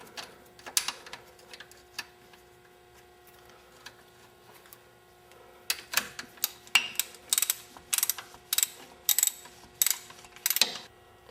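A ratchet tightens the bracket bolts on a 2000 Pontiac Bonneville strut assembly, with a few clicks at first and then a rapid series of sharp, close clicks in quick strokes, fairly quiet overall.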